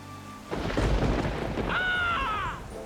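A deep rumble of thunder rolls in and sustains, with a higher whooshing, wavering sound layered over it near the end.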